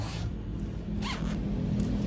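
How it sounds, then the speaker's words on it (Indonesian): Back zipper on a child's brocade dress pulled open, a single smooth zip lasting about a second, close and clear over a steady room hum. "Ini bukaan belakang, resleting belakang kita buka."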